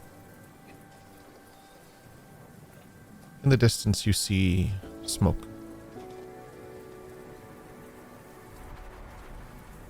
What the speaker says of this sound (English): And the rain trickles down on top of all of you.